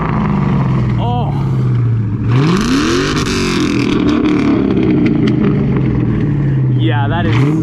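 A New Edge SN95 Ford Mustang GT with the 2V V8 revs hard from idle, swelling to a loud roar and dropping back, heard from outside the car with voices talking over it.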